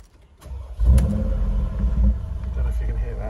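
A 2015 Mercedes-Benz G63 AMG engine cranks and fires up with a deep, loud rumbling roar, then settles into a strong, steady idle close by.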